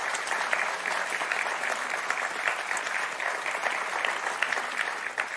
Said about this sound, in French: allez, on vous applaudit très fort.